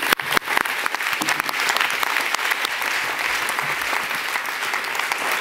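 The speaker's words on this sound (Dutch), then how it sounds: "Dus geef haar een hartelijk applaus." A live audience at a Dutch talk-show taping gives a warm round of applause for a guest, a criminal lawyer, being introduced. The clapping is loud, full and sustained for several seconds, with a few sharper claps near the start.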